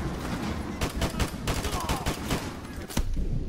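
Rapid bursts of gunfire from the Call of Duty Modern Warfare 2 Remastered campaign, dense repeated shots crackling through the full clip with a sharp louder report near the end, mixed with game sound.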